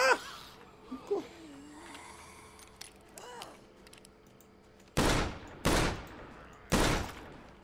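Gunshots in the State of Decay video game: three loud, sharp blasts spaced about a second apart near the end, preceded by quieter game sounds and faint voice-like noises.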